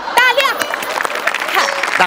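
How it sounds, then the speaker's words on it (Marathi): Studio audience applause on a Marathi comedy stage show, a short burst of clapping heard alongside a talking voice. "म्हणजे अरुण कदमांना टाळ्या."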